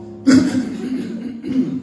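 A church congregation coughs and clears their throats together in a loud burst, followed by a second smaller wave of coughing.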